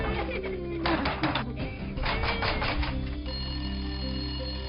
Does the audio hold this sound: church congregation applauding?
no